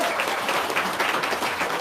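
A short burst of dense audience clapping at a seminar, loud and steady throughout, with no voices over it.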